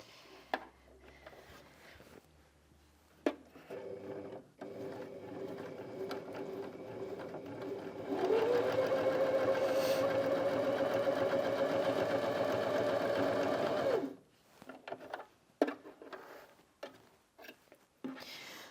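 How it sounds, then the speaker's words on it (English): Janome Sewist 725s sewing machine running a straight stitch through thick fabric: a steady, close mechanical hum with rapid needle clatter lasting about six seconds, framed by quieter handling noises before and after. "We're going to sew a standard straight stitch."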